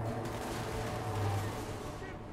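Cannon blasts in a pirate-themed video game, a dense run of booming shots rolling into one another at steady loudness with a voice talking over the top.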